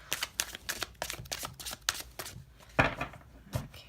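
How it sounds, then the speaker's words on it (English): Oracle cards being shuffled by hand, a run of quick papery riffles and flicks in close succession, fairly near and alone without talk. "We'll give it a few shuffles just to complete our message for today."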